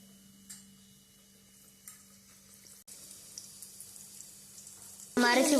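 Battered chicken for a homemade KFC-style recipe drops into hot oil near the end, bursting into a sudden loud sizzle after quieter kitchen clatter and faint background sounds.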